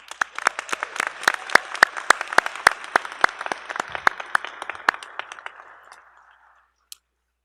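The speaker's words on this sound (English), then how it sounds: "How about a round of applause?" Applause at a university business school's fall commencement ceremony, scattered individual claps over a broad wash that thins and fades out near the end, with one last lone clap.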